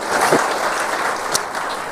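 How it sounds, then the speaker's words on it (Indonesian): Steady applause from a church congregation, clapping continuously for about two seconds with no voices over it. "Berikan tepuk tangan kita untuk Tuhan kita."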